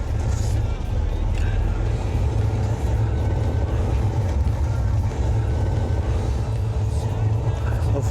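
A semi truck drives to pick up a trailer: a steady, loud engine-and-road roar fills the whole stretch without letting up.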